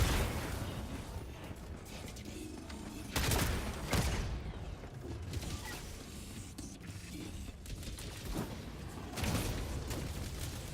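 Machine-gun fire from raiders in a video game: loud broadband bursts rise at about three and nine seconds over a constant dense background of game noise, with no clear talk.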